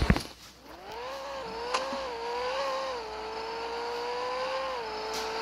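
A video game car engine hums and revs in a steady drone, with pitch rising and falling slightly as it drives. A sharp clunk opens the sound.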